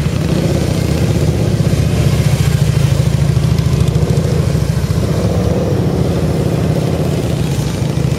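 A motorcycle engine runs close by with a steady, throbbing low rumble, riding slow turns around a parking lot during cone weave practice, with no talk.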